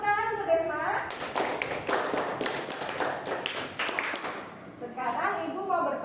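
Classroom applause for a student, a burst of clapping from children rising after a teacher's voice and fading back under her speech.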